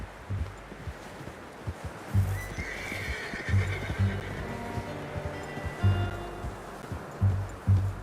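In Red Dead Redemption 2, a horse whinnies over steady clip-clop hoofbeats and a soft ambient wash, the neigh rising clearly in the middle.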